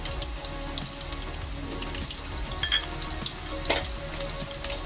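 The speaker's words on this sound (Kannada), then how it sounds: "ಇವಾಗ 1 ಬೌಲು ಈರುಳ್ಳಿ ಚಿಕ್ಕದಾಗಿ ಕಟ್ ಮಾಡಿರೋದು ಹಾಕ್ಕೊತಾ ಇದ್ದೀನಿ." Finely chopped onion and curry leaves fry in a pan for a South Indian egg curry, making a steady, moderate sizzle with scattered crackles and two sharper clinks near the end, with no talk.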